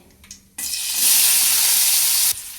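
Chopped onion hits hot oil over full flame for a soybean chili dish, bursting into a loud, steady sizzle that holds for about two seconds, then cuts off. A few faint clatters come just before.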